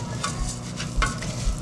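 Rice sizzling and frying in very hot butter in a pan, with a steady crackle and intermittent scraping as it is stirred.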